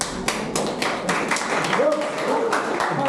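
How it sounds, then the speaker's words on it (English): A university business analytics class claps briefly in a room, with light, scattered handclaps from a small group while a voice keeps talking over them. "give me applause"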